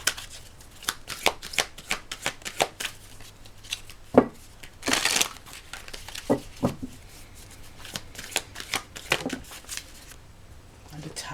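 Oracle and tarot cards are shuffled close up, with quick crisp riffles and slaps in bursts, then a longer flurry partway through and brief pauses between handfuls.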